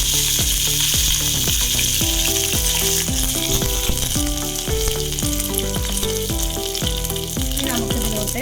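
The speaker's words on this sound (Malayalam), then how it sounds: "എണ്ണ ചൂടായി വന്നിട്ടുണ്ട്. അപ്പോൾ നമുക്കിതിലേക്ക് കടുക് ചേർത്ത് കൊടുക്കാം." Mustard seeds and curry leaves crackle and sizzle in hot oil for Kerala payar thoran, a loud steady fry with background music tones running throughout.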